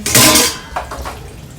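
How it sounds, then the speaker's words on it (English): Dirty dog bowls and dishes clatter loudly as they go into a sink for washing, followed by a few lighter clinks and a splash of water. "Dishes going in."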